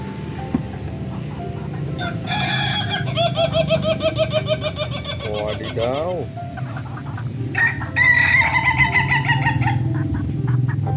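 Chickens cluck and squawk in bursts, with a rooster-like call, while a person talks and exclaims over them.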